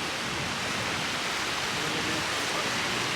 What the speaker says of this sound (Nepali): अलिक स्ट्रङ रहेछ छाल भएर